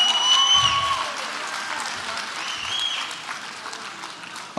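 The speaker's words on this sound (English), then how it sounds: "one other round of applause for the man holding the belt in the middle of the ring here" A crowd at a Muay Thai fight night gives a sustained round of applause in an arena, steady dense clapping with some cheering, moderately loud and continuous throughout.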